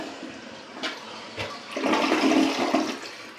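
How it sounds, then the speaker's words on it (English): A toilet flushes up close: a quick handle clatter, then a rising rush of water that swirls loudly for a couple of seconds before starting to fade. "We're going to do our first flush with the liquid flush."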